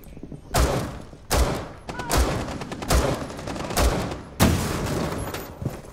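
Bursts of gunfire in Rainbow Six Siege on the Skyscraper map, with about six sharp, heavy thumping shots or short volleys spaced roughly a second apart. Each one is loud and close over a steady game background.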